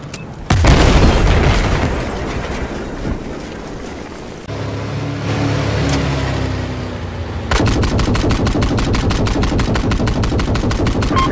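Explosion and sustained gunfire in a military video game firefight, with a loud detonation near the start and a later shift to rapid, evenly spaced automatic bursts that keep going to the end.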